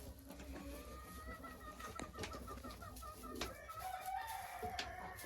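Chickens crowing and clucking inside a coop where hens are being moved in among one another, a rooster's crow rising over steady nearby fowl chatter and scattered sharp knocks.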